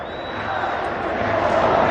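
Al-Ittihad supporters filling a stadium with a steady, broad crowd roar, cheering continuously and building slightly louder over the two seconds, with no clear individual voices standing out.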